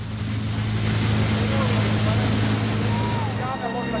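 A helicopter flies in a documentary reenactment of the 1995 crash of American Airlines Flight 965, a Boeing 757: a steady, loud rotor and engine roar with a low droning hum that continues throughout.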